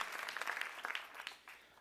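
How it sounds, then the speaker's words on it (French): Audience applauding the nominees at an awards gala, a steady patter of many hands clapping at moderate distance, fairly soft and even throughout. "on peut les applaudir, les nommés"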